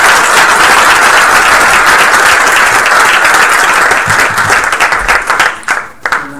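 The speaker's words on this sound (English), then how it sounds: "Let's have a round of applause for" Sustained applause from an audience at a board meeting, loud and dense throughout, thinning and breaking up into scattered claps near the end.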